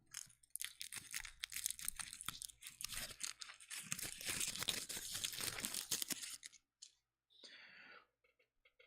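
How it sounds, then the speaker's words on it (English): Crinkling and tearing of foil wrapping being peeled from a small chocolate egg shaped like a Kinder Surprise, close and crackly for several seconds, then a few sparse rustles. "Here, I'll unwrap it."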